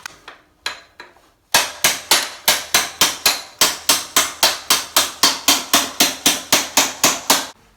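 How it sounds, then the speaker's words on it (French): A small hammer taps a socket to drive out an axle while greasing the suspension linkages and swingarm: a few light taps, then a steady run of about twenty sharp, ringing metallic strikes at an even rhythm. "S'il a du mal à sortir comme celui-là, prenez un petit marteau et quelque chose pour pousser."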